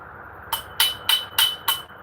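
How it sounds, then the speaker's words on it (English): A hammer strikes plastic to crack it off an aluminum pole, five sharp, close metallic knocks spaced evenly apart, with no talk over them. "hit that with a hammer and crack that plastic off"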